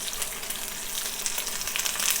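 Lamb sears in a hot pan with a loud, steady, close sizzle that crackles continuously throughout.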